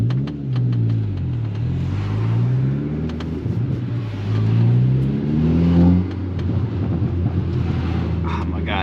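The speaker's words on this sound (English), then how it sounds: "those little burbles down low, if you're below 3K, sounds so good" The engine of a Stage 2 MK6 Golf R burbles and revs from inside the car, pitch rising and falling through the gears under wind noise, with a voice talking over it.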